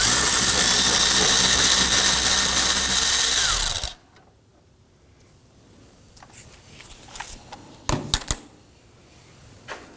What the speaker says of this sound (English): We're going to go ahead and put our power tool on it.